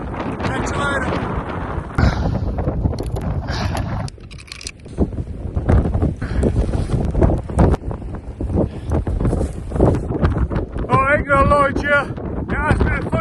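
Strong wind buffets a Naturehike Opalus UL 2-person tent outdoors, giving a steady loud roar with gusty swells and fabric flapping throughout, with a brief lull partway and some rattling noise near the end.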